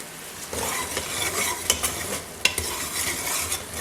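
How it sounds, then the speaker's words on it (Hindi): Mutton karahi frying with ginger in a wok for a Peshawari-style dish, giving a steady sizzle broken by occasional stirring scrapes and clinks, close and moderately loud, with no talking. "1 मिनट हम अदरक के साथ इसको फ्राई करेंगे"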